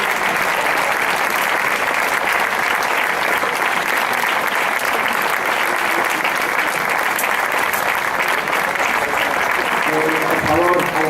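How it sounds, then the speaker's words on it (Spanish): Sustained, loud applause from a festival crowd at a regional band gathering during patronal fiestas in Aragón, a dense steady roar of clapping lasting throughout, with faint voices emerging near the end. "Un aplauso para ellos, por favor."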